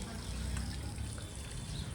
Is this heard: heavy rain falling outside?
no